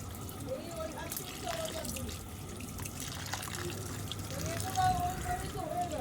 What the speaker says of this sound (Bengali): এই যে আমি মাটনটা ধুয়ে নিচ্ছিলাম